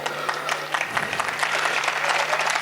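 Audience applause at a Hindi poetry gathering (kavi sammelan) in Garoth, a dense, sustained wash of many hands clapping, steady and fairly loud throughout with a faint low hum beneath.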